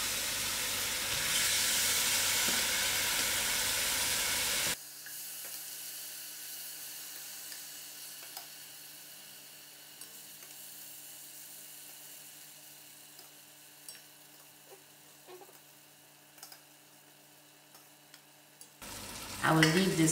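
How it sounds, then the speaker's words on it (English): Pork trotters (gori) fry in a pot for a curry with beans. A loud hiss and sizzle opens, then gives way to quieter steady frying with scattered small pops, before loud stirring noise at the end. "In the meantime, I'll allow this gori to fry out."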